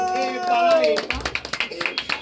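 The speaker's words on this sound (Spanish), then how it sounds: "Ese aplauso bien bonito que se escuche para Caterina" A sustained voice holds a long tone before giving way to a run of crisp, rhythmic handclaps at a birthday celebration with mariachi musicians, the claps close and evenly spaced.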